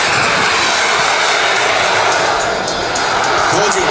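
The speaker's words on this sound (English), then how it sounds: "One more time, Greg Clusey, the A-10 Thunderbolt 2." An A-10 Thunderbolt II flying an air show demonstration routine produces a loud, continuous engine roar that stays strong and close from start to end.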